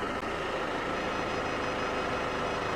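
Rapid, continuous warning beeps of a car's rear parking sensor while the car is in reverse against a loading wall, heard over the steady hum of the idling engine.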